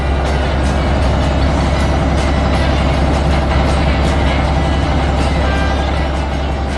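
Animated construction trucks rumbling back from a brick building demolition, a steady, loud, close engine drone with dense low-end roar running the whole time and faint higher clatter on top.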